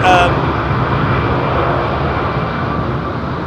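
A Kuwait Airways Boeing 777 departing London Heathrow gives a loud, continuous jet engine roar that fades slightly, with a brief tonal whine at the start.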